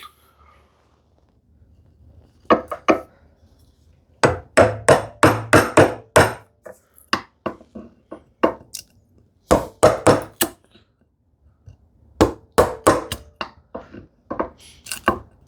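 A wide chisel paring wood by hand for a shoe tidy, heard as bursts of close, crisp taps and cuts in quick irregular runs separated by short quiet gaps.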